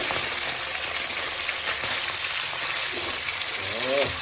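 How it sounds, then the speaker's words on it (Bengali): Oil sizzles steadily in a pan as fish fries, with a constant bright hiss, a few faint clinks and a brief voice near the end. "আগে মাছগুলো সব ভাজা করি"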